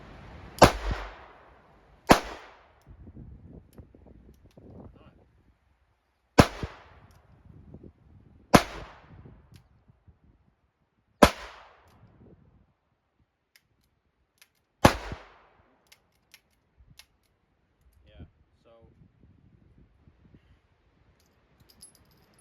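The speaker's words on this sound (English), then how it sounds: "let's see what I can do with this Winchester Silver Tip. Pretty neat looking little round. Let's try double action again." .22 revolver firing Winchester Silver Tip rounds in double action: six sharp, loud reports spaced a couple of seconds apart, each dying away quickly, with quiet handling noise between shots and a calmer stretch after the last.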